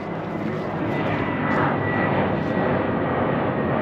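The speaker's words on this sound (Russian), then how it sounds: "Вон еще самолет." An airplane passing overhead outdoors, a steady broad engine roar holding loud and even throughout, with no voices over it.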